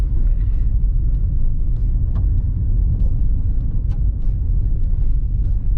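A 2025 Honda City hatchback EX 1.5 with CVT climbs a gravel slope, its engine a steady low rumble up close with faint crunches from the tyres and no talking.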